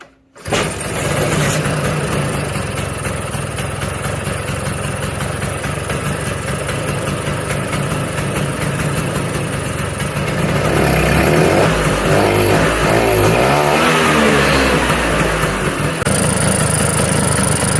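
A 1979 Vespa scooter engine, choke pulled out, catches and settles into a steady, close two-stroke idle, then revs up louder and rougher partway through before easing back.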